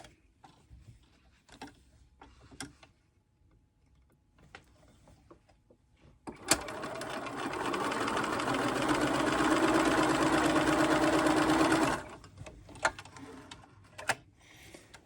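A sewing machine stitches half-square triangles, running steadily for several seconds as a dense continuous whir, with quieter handling sounds and small clicks before and after.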